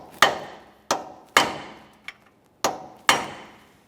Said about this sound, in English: I'm just using a hammer and punch. We'll give this a couple taps.